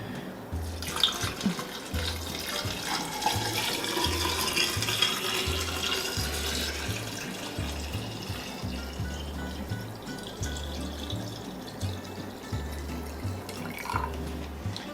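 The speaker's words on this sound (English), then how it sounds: "you're gonna go ahead and pour this brine in your pickle storage container" Pickle brine runs steadily into a home kitchen storage container with a continuous watery splash and trickle, fairly close and unbroken, with no one talking.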